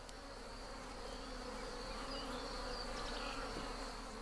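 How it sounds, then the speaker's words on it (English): Bees swarm densely around a hive during a smoky honey harvest, a continuous close buzzing drone with no voices. "In spite of the smoke, the bees keep swarming"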